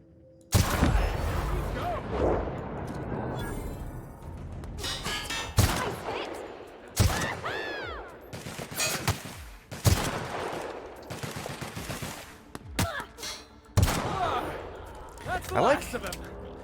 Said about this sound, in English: I like how her acid machine gun, it kind of gives me like some tracers so I can track targets